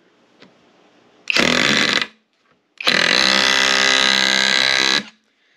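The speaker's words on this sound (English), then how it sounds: "Now we're going to try this finish nail and see how that works." A Skil auto hammer drives a finish nail into wood, giving two loud buzzing bursts of rapid hammering up close, a short one and then a longer run of about two seconds, with quiet gaps around them.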